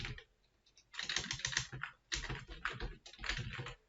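Computer keyboard being typed on in three quick, close bursts of clicking keystrokes separated by brief pauses, fairly quiet and with no voices.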